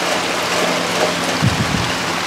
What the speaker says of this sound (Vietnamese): Cảnh mưa trên dòng sông trước nhà Thiện